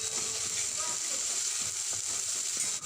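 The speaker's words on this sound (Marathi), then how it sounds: "त्यानंतर 1 चमचा अद्रक लसूणची पेस्ट घालायची आणि कांदा चांगला भाजून घ्यायचा" Onion browning in a pan with a spoonful of ginger garlic paste, for a creamy chole curry: a steady, close oil sizzle with a soft hiss running throughout.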